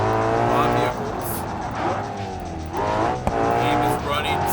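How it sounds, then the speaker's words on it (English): Engines of cars in driving video game traffic whine and rev continuously up close, with a tire screech and a sharp knock partway through, and someone talks over them. "Now let's just spawn in traffic."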